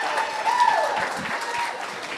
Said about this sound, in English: That was a pretty loud ovation, Tony.